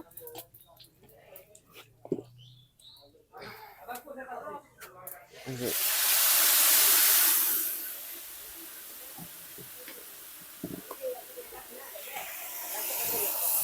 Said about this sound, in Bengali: এখন পেঁয়াজ ভুনা দিব